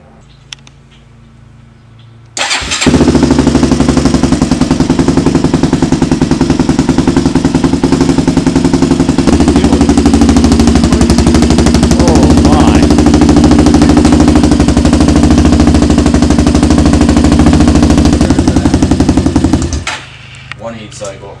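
A Honda 400EX ATV engine, freshly rebuilt, starts up and runs rich with black smoke, a loud steady idle that keeps going for about seventeen seconds before it cuts off.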